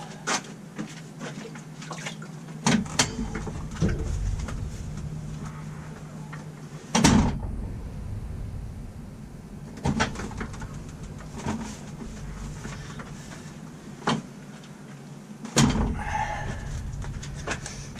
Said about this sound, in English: That door you hear closing in the back, we have a door to the Wormatorium put on.